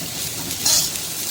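Carrots, cabbage and green chilies fry in a pan with a close, steady hiss and sizzle, with faint clinks of utensils against the pan.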